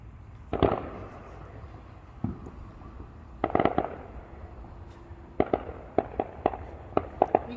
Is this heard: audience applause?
no